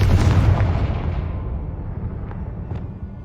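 A Confringo spell explosion in Hogwarts Legacy, a loud booming blast with a deep rumble that decays over a few seconds, followed by two faint crackling pops.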